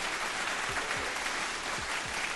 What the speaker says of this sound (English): Can I get a hand clap?